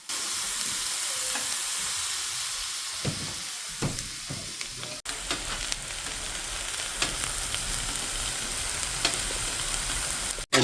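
A pork roast sears in a hot pan on an old-fashioned woodstove, giving a steady broadband sizzle throughout with scattered pops and crackles, close and continuous, with no voices.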